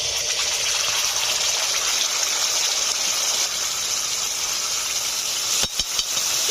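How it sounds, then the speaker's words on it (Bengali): Sauces hit hot mustard oil in a pan for pasta, producing a loud, continuous close-up sizzle and hiss that runs unbroken, with a brief clatter near the end. "তেল গরম হয়ে গেছে, সমস্ত রকমের সসগুলো আমি দিয়ে দিচ্ছি"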